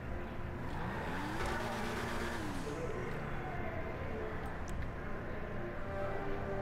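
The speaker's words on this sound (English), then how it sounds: "Now I've got the car, I can just pull into my garage." Car engine in GTA Online pulling into a garage, a moderate hum with rising and falling revs throughout, with someone talking over it.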